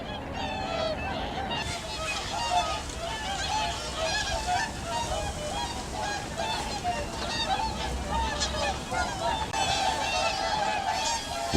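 A flock of whooper swans honks continuously while feeding among ducks on the water, a dense overlapping chorus of trumpeting calls that stays loud and steady throughout.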